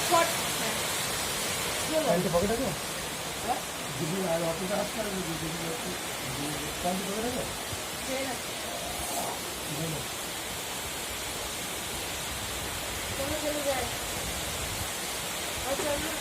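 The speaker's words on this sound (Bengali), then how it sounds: "আর এদিকে বৃষ্টি শুরু হয়ে গেছে প্রচণ্ড জোরে" Heavy rain pours steadily as a dense, even hiss throughout, with voices talking intermittently over the downpour.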